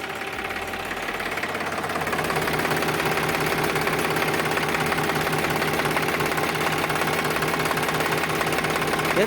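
Powertrac 439 41 HP tractor engine with about 3,500 hours runs steadily and loudly close by, a continuous mechanical chugging with a rapid knocking beat throughout, no talk.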